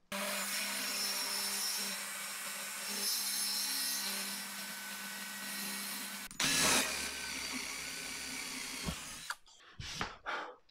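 A biscuit joiner cuts slots in wooden stair-gate parts, with a steady, loud motor drone for about six seconds, then a sharper bite as the blade plunges in, followed by a few short knocks and handling sounds.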